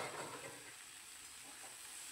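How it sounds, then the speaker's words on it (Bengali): Bottle gourd leaves frying with potato and eggplant in a pan of a little oil make a soft, even sizzle, close and quiet, a bit louder at the start and then settling. "লাউ শাকগুলো দিয়ে কিছুক্ষণ সময় একটু ভেজে নেব"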